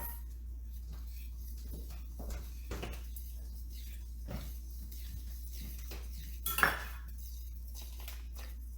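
Raspberry muffin batter is mixed in a bowl, with a spoon or utensil clinking and scraping against the dish in scattered strokes over a low steady hum, one louder clatter near the end.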